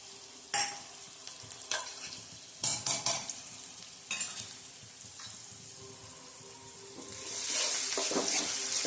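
Garlic-chili paste and grated ginger sautéing in a pan: a moderate sizzle punctuated by several sharp clinks and scrapes of a spoon stirring, building into a louder, denser frying hiss near the end.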